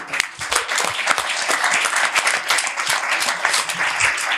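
An audience applauds steadily and fairly close, a dense patter of many hands clapping with no voices on top.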